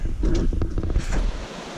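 Flowing water of Long Creek along the Appalachian Trail, a steady broadband rush of moving stream water with wind noise, continuous and fairly close, no voices.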